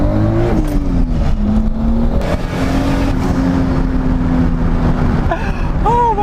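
A Toyota Supra with a 500-plus horsepower turbo engine revs hard as it pulls in second gear. Its loud, continuous drone climbs and then settles, close inside the cabin, with a brief squeal near the end.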